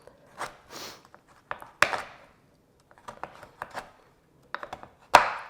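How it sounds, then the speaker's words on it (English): Sharp knife chops on a board cut through firm chocolate, coming in irregular clusters with short pauses, close and fairly crisp, no voices. "I usually wouldn't get tired chopping chocolate"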